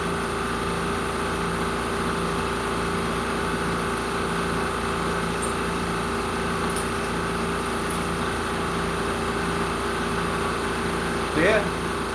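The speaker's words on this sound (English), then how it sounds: "The compressor's probably making some noise right now." Air compressor running steadily in a laser engraving workshop, a constant droning hum with a steady pitch that continues unchanged throughout, moderately loud in the background.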